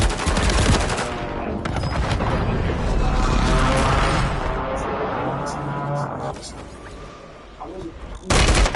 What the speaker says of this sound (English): Friendly airstrike in AO.